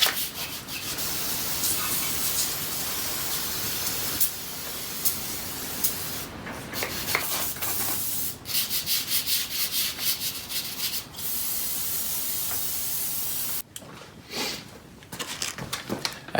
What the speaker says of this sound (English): I've got some epoxy primer that's left over from an old job, so I'm going to shoot the whole tractor with that.